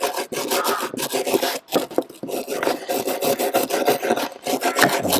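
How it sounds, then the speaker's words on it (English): A wire brush scrubs flaky rust off a Land Rover Freelander 2 rear wiper motor, a steady close rasping and rubbing in repeated strokes with brief pauses, no talk. "I've got the wire brush out here. I'm going to try and give this a bit of a clean up."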